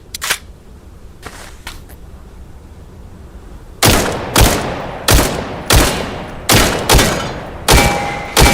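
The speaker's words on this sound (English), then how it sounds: "Selective fire rate for this also between a 3-round burst, I believe, maybe a 4-round burst, and semi-automatic" A TAVOR rifle fires in bursts of loud, sharp cracks, first a few fainter distant shots, then a regular string of heavy close reports about every half second, each with a ringing decay and no voices.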